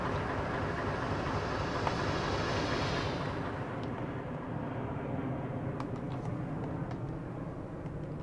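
A diesel train rumbles steadily in Train Sim World 2 while shunting in Köln, a continuous low, heavy drone with faint clicks and no talking.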